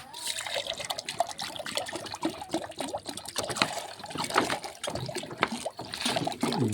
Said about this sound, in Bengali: তো এখন জল দিয়ে দিই কাবুতরগুলোকে।